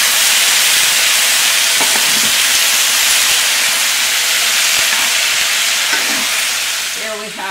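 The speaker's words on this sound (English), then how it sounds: "So we're going to be adding about 5 tablespoons of vinegar." Vinegar poured into a hot pan of softened peppers and onions for escovitch fish sets off a loud, steady, close hiss of sizzling steam that fades slightly at the end.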